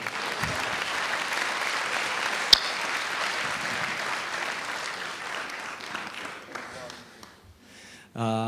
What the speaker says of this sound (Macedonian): Спонтан аплауз, сега.